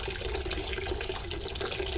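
Water drains from a steam boiler in a continuous, even rushing hiss with a faint gurgle, steady and fairly close, without speech.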